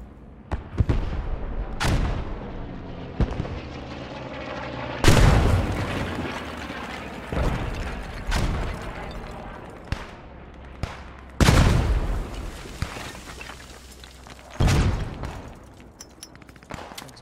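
Heavy gunfire and explosions from a Post Scriptum World War II battle game, with loud booming blasts and sharp shot bursts at irregular intervals, some close and others farther away, over a continuous low battlefield rumble and no talk.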